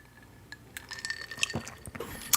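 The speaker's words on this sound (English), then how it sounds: "let me take a sip of this water." Water sips and small liquid splashes with faint glass clinks, quiet and close, scattered over a couple of seconds, no talking.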